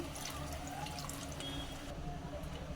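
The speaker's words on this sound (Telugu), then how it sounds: "కొంచెం ఫ్రై అయిన తర్వాత చింతపండు పులుసు అయితే పోసుకోవాలండి" Tamarind juice poured into a pan of frying fish curry, a steady low liquid wash and sizzle that carries evenly through the whole moment at moderate loudness.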